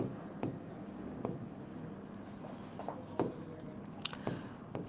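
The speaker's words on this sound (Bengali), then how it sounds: "ধরো আমি লিখলাম যে ফারহানা" A pen or pencil writes a sentence on paper, giving faint scratchy strokes and light taps at an uneven pace close by, over a low background hum.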